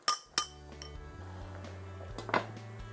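A metal pot lid clinks shut on a pot of chicken soup simmering on the stove: two sharp, close clinks at the start, a lower hum underneath, and another lighter rattle near the end.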